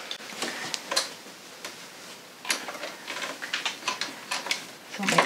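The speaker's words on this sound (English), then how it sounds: "Top stitching till I get to my mark." Domestic sewing machine top stitching a fabric face covering, giving bursts of quick ticking stitches that stop and restart close by.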